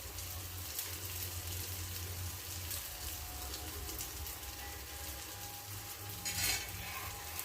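Potato and rice bondas frying in hot oil, a continuous dense bubbling sizzle heard up close, with a short burst of louder crackle near the end as they are stirred.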